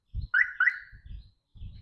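Two quick, high electronic chirps from the alarm system of a 1993 Mercedes-Benz E280, close by, with low mechanical thumps and rumble around them.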